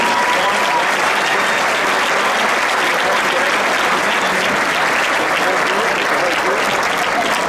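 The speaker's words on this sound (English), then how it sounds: "Let's have a nice round of applause for all these Hawkins nominees." Sustained applause from a sizable crowd at a girls' varsity basketball championship, dense and even clapping that stays loud throughout without pause.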